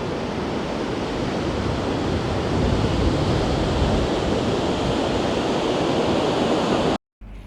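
Steady roaring surf and gusting wind fill Mandarmani beach in the evening, a continuous broad wash of sea noise that drops out briefly near the end.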